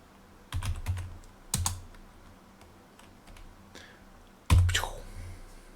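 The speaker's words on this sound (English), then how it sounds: "because I'm going to type run." A Commodore 64 keyboard is tapped in a few sparse, separate bursts of keystrokes with quiet pauses between them. The clacks are close and crisp, and no one speaks.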